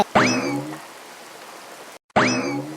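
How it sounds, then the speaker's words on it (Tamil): Cartoon rain effect: a steady patter of drops with springy, ringing tonal sweeps at the start and again after a short silence near the end. "ஐயோ மழை வேற நல்லா வருது"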